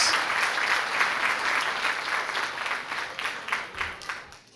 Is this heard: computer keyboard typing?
no